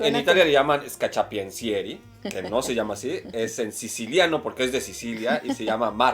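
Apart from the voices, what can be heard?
None of the usual background noises is heard.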